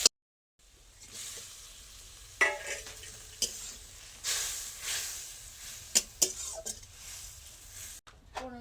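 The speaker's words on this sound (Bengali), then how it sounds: "দেবো পেঁয়াজ কুচি, একটু ভাজা ভাজা হবে কিছুক্ষণ" Chopped onions frying in a wok-style pan for a Bengali mixed vegetable dish, with a steady background sizzle broken by repeated clinks and scrapes of a metal spatula stirring against the pan.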